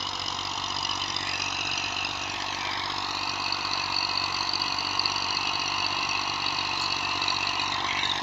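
A Massey 240 tractor with a 54-cutter rotavator runs at a steady loud drone with a rough, even texture throughout, no pauses and no speech.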